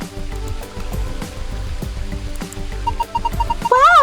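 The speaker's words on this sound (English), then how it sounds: "Wow, they even made a waterfall." Steady rushing water from a waterfall in a video game garden fills the clip, with layered game music notes and a rising chime near the end over the continuous splashing.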